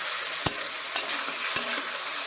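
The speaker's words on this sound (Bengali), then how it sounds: "এবার আমি আদা রসুনের পেস্টটা দিয়ে দিচ্ছি" Ginger garlic paste frying in a pan with tomato and salt for a potato and patol curry, a steady bright sizzle with three sharp stirring scrapes spaced about half a second apart, close and fairly loud, no talk.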